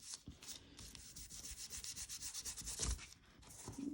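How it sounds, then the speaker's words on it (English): Gilding paste being buffed by hand over a distressed surface, a faint, rhythmic rubbing with quick back-and-forth strokes repeating steadily, close up and quiet. "going over it one last time. And buffing it"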